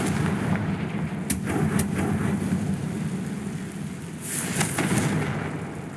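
A Confringo fire-curse blast from the Hogwarts Legacy video game bursts as a dense rumbling roar with a few sharp cracks, followed by a crackling whoosh.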